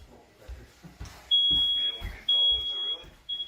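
A shrill, steady high-pitched electronic alarm tone, like a smoke or fire alarm being imitated as a prank, sounds in three long blasts with short breaks between them, loud over people talking.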